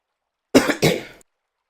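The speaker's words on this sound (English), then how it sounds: "that cough was really loud" A single loud cough, a sharp two-part burst lasting about half a second, close to the mic and alone.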